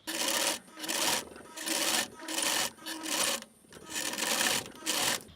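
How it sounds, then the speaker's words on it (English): A sewing machine runs zigzag stitches on an elastic belt in six or seven close, even bursts of whirring, each lasting about half a second with short pauses between. "I am going to basically just sew that down with a 3 or a 4-point zigzag"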